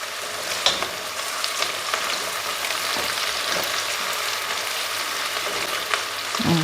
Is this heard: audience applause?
no